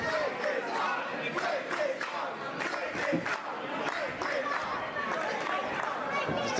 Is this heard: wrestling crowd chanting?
yes